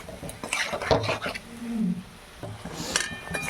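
Chunks of potato and peas tumble into a pan of fried spice paste for mutton-fat ghugni, giving a few clattering drops and scrapes against the metal over a soft sizzle.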